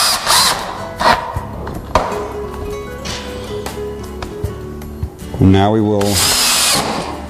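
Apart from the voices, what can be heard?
power drill driving screws into Murphy bed rails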